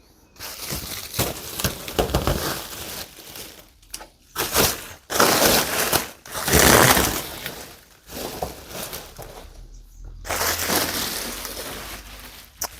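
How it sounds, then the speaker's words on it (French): A new headliner for a Jaguar XKR is unwrapped from its packaging, with loud, close crinkling and tearing in uneven bursts broken by short pauses. "Mais on va commencer par le déballer"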